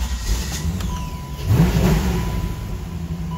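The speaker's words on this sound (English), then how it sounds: "Let's fire her up and see how she sounds." A 1987 Chevrolet Corvette engine fired up after a tune-up with new plugs, wires, cap, rotor and air filter, catching with a brief rev swell near the middle and then settling into a steady low idle.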